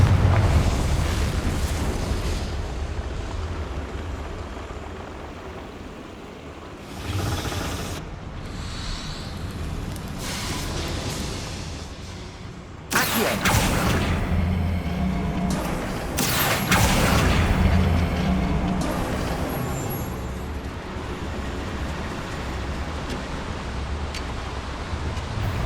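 Booming spell explosions and rumbling blasts in the Hogwarts Legacy video game, several loud bursts with sharp onsets around the middle and a dense roaring wash of debris and wind between them.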